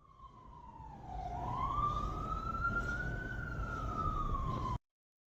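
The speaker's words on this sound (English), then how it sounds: "That siren was going off in the real life." A wailing siren, one long tone dipping and then rising slowly over a rumbling traffic background, fairly distant and steady before cutting off abruptly.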